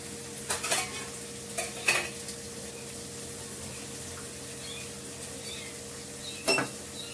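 Chicken curry stir-fried in a small amount of oil, with a low steady sizzle under a hum and a few scattered scrapes and clinks of a spatula against the pan, no one talking.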